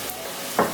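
Mushrooms in olive oil with garlic and onions sizzle softly in a pan for Sichuan hotpot, with a brief scraping stir near the end, close and quiet, no voice.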